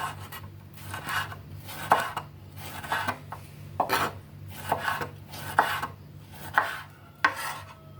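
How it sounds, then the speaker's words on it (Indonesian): A knife chopping one red tomato into large chunks on a cutting board while stir-fried tempeh and bean sprouts are prepared, giving about a dozen crisp, evenly spaced thuds up close with quiet between strokes. "Satu buah tomat merah dipotong-potong agak besar."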